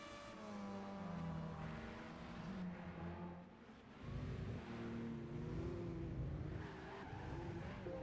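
Race cars from Gran Turismo 5 roar past in a continuous engine drone, with revving pitch sweeps, shifting harmonics and a brief tire squeal, loud and steady throughout.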